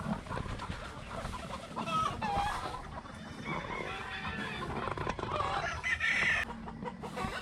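Gamefowl, a rooster and a white brood hen, cluck and call at close range, with a few sharper squawks over farmyard background noise.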